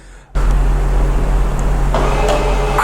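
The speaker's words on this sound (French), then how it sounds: "On va laisser l'aspirateur. On va le laisser tourner un peu comme ça" A Xiaomi ROIDMI Eve Plus robot vacuum cleaner switches on sharply after a quiet moment and runs at a loud, steady hum with a few faint clicks on top.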